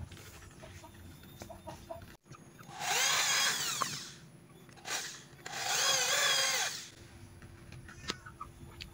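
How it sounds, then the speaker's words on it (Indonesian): A power drill bores a hole into a tree-root handle for a machete sheath, two loud whining bursts of a few seconds each close to the listener, separated by a short pause. "Di sini saya akan melubanginya menggunakan bor, teman-teman."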